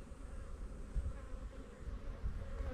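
Honey bees buzz steadily during a backyard off-grid hive inspection, a close, continuous droning hum from many insects around opened frames of capped honeycomb, with no talking over it.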